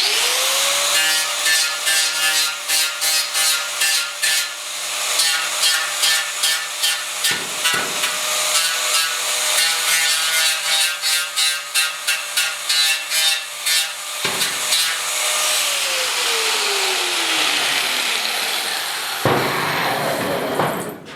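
Sanding tool working the bodywork of a 1969 Ford Bronco bed, a loud close rasping scrape in rapid repeated strokes with a droning motor tone, pausing briefly a few times.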